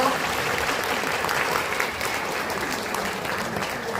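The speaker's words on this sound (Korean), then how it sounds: "큰 박수 부탁드립니다" Applause from an audience at a Korean lawmaker's legislative report meeting, a dense, steady wash of clapping filling the whole stretch without a break.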